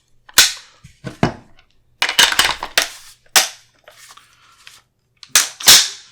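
A Springfield Armory SA-16A2 rifle trigger with a pull of about 6.5 pounds is worked repeatedly, giving a series of sharp, close metallic clicks and snaps with short quiet gaps, without any talking.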